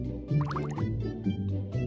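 Cartoon water sounds from a children's letter game as soap is washed off a letter: close drips and liquid splashes over a soft musical background.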